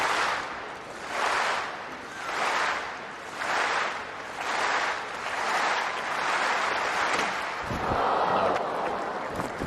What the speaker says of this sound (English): Listen to the reaction from the crowd.